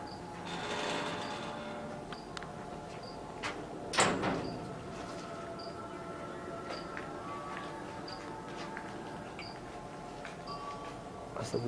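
A door shakes and rattles as wind moves it, with one sharper knock near the middle over a steady background hiss and faint tones.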